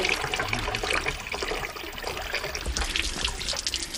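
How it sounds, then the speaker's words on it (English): Running water pours and splashes close by as dishes are washed in an Amazon basin village supplied from a well and reservoir, a steady bright stream with small clinks and trickles and no talking. "Now they wash dishes in running water."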